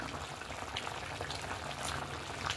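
Dum mutton curry with yogurt simmering in a pot, a steady close bubbling and faint sizzling hiss that carries on evenly throughout with no voices.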